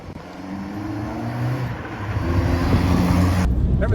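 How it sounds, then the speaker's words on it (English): A 1991 Saab 900S Turbo Aero 16V drives with its turbo boosting, engine note rising steadily as it pulls through the gear, heard from inside the car with road and wind noise building, no speech. "Turbo's boosting as normal."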